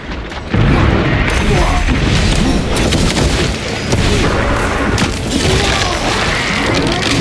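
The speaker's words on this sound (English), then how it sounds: "Using frag grenade!" Frag grenade blast in Warhammer 40,000: Space Marine 2, a loud booming explosion bursting in and rolling into a long roaring rumble of combat noise.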